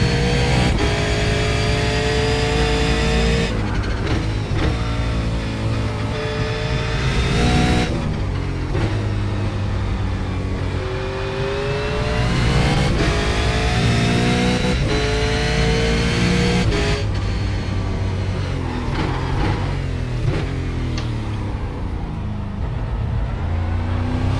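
Race car engine on track, heard continuously and loudly from close by as it revs, shifts and holds speed through corners for over twenty seconds, with no talk.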